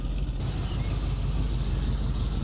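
A 1936 Chevy hot rod engine left idling warm and running rich: a steady, low rumble that holds even and unbroken throughout, close and fairly loud, with no voices over it.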